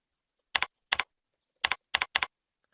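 Keys struck on a computer keyboard while entering search text, five quick double-click pairs of crisp tapping in an uneven rhythm, close and clear against near silence.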